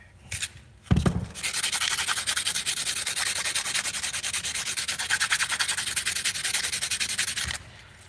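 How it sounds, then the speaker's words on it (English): Sandpaper rubs back and forth across the metal head of a Predator 212 engine in steady, rapid rasping strokes that start after a brief knock and continue loud and close for several seconds before stopping, with no speech. "because I'm using metal, doing metal with sandpaper, this is gonna take more sandpaper than it would when you're using wood"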